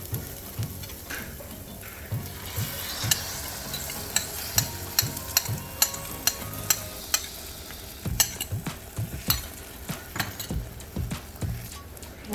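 Eggs and smoked pork loin sizzle in a pan with softened onions and peppers, while a utensil stirs and scrapes in quick, repeated taps over a soft, continuous frying hiss.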